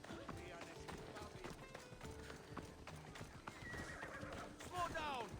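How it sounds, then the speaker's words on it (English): Horse hooves clip-clop at a steady gallop in Assassin's Creed Odyssey, with occasional whinnies, while someone talks over the game sound throughout. "Waiting for my horse to catch up with me."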